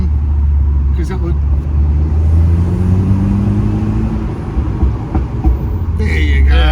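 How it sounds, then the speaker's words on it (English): Morgan Plus Four with a manual gearbox in Sport Plus mode, its engine and exhaust droning loud and steady with a rising rev sweep, then a brief sharper burst near the end. "You can have so much fun with the exhaust."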